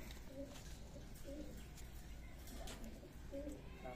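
Pakistani Teddy, Kamagar and Black Saharanpuri pigeons coo in a loft, repeated soft throaty calls recurring about every second, faint against steady background hiss.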